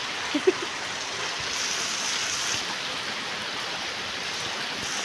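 Steady rain hisses evenly throughout, a soft constant wash of falling water with a couple of faint knocks near the start.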